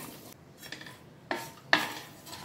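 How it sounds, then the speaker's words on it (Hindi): Dry ginger powder roasting on low heat in a pan, heard as quiet, sparse scrapes and clinks of a spoon stirring against metal, with two sharper strokes near the end and little sizzle. "स्लो गैस पे आपको सूंड को भूनना है"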